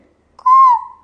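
A single clear whistled call imitated by a voice, a steady tone that slides down at the end, heard alone in silence.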